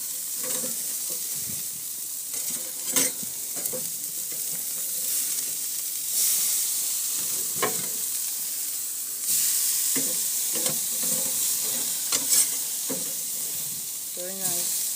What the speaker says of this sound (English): So I'm gonna flip them over.